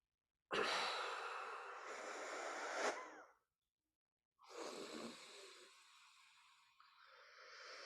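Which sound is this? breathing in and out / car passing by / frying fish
breathing in and out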